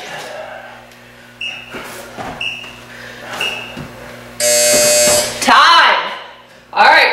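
An electronic interval timer buzzer sounds during a strength and HIIT workout, a loud steady buzz lasting about a second, preceded by short beeps and a voice talking, with clatter and more speech after.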